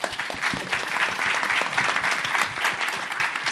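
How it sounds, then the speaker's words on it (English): Audience at a policy dialogue in Paris giving sustained applause to the organising team, a dense, even roar of many hands clapping throughout. "and a very big applause for them"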